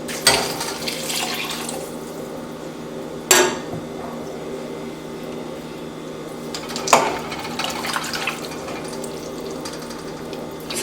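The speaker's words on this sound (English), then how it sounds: "Now I'm going to fill this cup up with some water." Water runs from a kitchen sink tap into a cup during chili cooking, a steady close splashing hiss broken by a couple of sharp clinks of dishes or utensils; nobody speaks.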